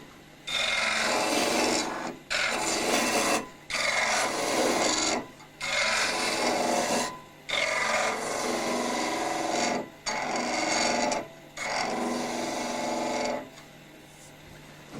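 A gouge cutting a wooden workpiece spinning on a lathe, giving repeated rasping, scraping passes of a couple of seconds each with short pauses between, close and fairly loud over a faint steady motor hum.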